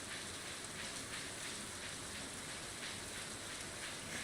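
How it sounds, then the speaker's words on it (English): Steady rain pours down in the farming video game Stardew Valley, a dense, even hiss of drops that holds unbroken and fairly loud throughout, with no voices over it. "It might actually be because it's raining."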